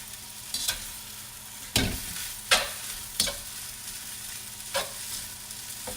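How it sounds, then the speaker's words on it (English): Fried pho noodles with bok choy stir-frying in a wok, giving a steady sizzle broken by several sharp scrapes and tosses of the spatula at irregular intervals, close and alone with no voices. "when we cook it in a wok and not in a pan, because the wok cooks it really fast"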